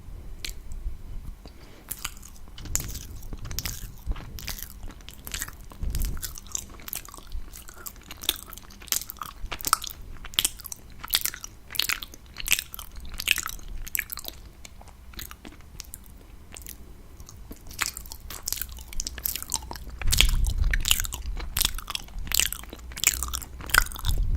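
Close-up biting and chewing of sweet mochi, soft sticky squishes and moist mouth clicks in a steady rhythm, intimate and near with no talking.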